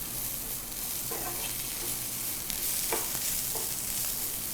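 Capsicum frying lightly in a pan for dragon chicken, a steady soft sizzle with a few scrapes and stirring knocks of a utensil against the pan, close and continuous.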